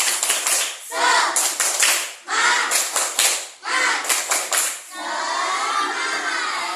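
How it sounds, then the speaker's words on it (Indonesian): A group of schoolchildren claps out the rhythmic Indonesian "tepuk semangat" cheer in a classroom setting, several quick bursts of loud, crowded clapping separated by short pauses, ending in a sustained clattering of hands. "Tepuk semangat."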